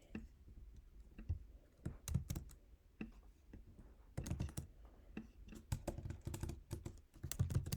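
Keys on a computer keyboard tap in quiet, uneven bursts as form fields are filled in, close by with no talking.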